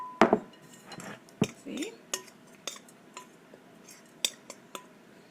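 A spoon stirs dry ingredients for chocolate oat banana bread in a bowl, giving irregular scraping clinks and taps against the side, close and moderately loud, with a brief word spoken.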